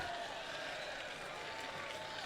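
Outdoor crowd cheering and applauding young kids finishing a bicycle race at a community event in New Smyrna, a steady, dense wash of clapping and voices lasting throughout.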